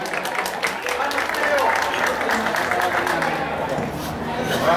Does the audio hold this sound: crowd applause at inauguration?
yes